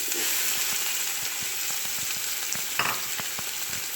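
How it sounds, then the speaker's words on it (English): Onions fry in oil already seasoned with browned fennel seeds, a broad steady sizzle with small crackles and an occasional light tap, including a short louder clatter partway through. "I'm just going to fry my onions"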